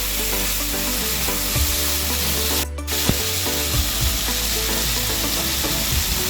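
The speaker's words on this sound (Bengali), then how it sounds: "লতিগুলোকে আমি বেশ ভাজা ভাজা করে নেবো কিছুক্ষণ" Taro stolons fry with shrimp and spices in a pan over medium-low flame, a continuous dense sizzle with scattered stirring scrapes and one brief break midway.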